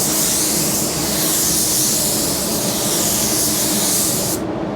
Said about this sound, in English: I'm really just going to spray that area